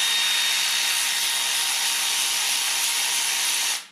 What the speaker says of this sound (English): We'll take this cam plate off first. We'll just loosen these bolts up.